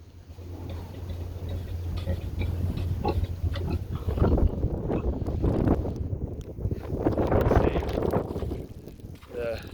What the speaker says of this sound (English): The piglets are off in the corner.